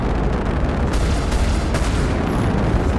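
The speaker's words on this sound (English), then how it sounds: "that heavy thumping sound, those are Tarantula size 2 ballistic cannons" Heavy, continuous booming from Tarantula size 2 ballistic cannons on a Star Citizen spaceship fills the clip, a loud dense thumping barrage with no pauses.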